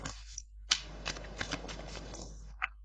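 Tarot cards being shuffled by hand, a quiet close riffle of soft flicks and slaps lasting a couple of seconds, with sharper taps at the start and end.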